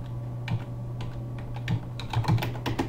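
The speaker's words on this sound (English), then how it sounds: "I simply took the phrase and I typed into" Keys clatter on a computer keyboard in short, irregular bursts of close, light taps over a faint steady hum, with brief pauses between words and no speech.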